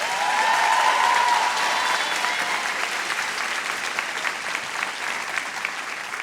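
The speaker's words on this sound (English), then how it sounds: "let's give you all a big round of applause." Audience applause at a Yonkers Montessori Academy Class of 2026 graduation ceremony, a loud burst of crowd clapping that swells at first and then gradually thins while continuing to the end.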